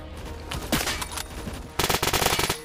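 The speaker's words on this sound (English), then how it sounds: "Just using a sniper here with a suppressor rod," Suppressed sniper rifle fire in a video game, rapid bursts of sharp, dense gunshot cracks coming in loud clusters, with a heavier barrage toward the end and no talking.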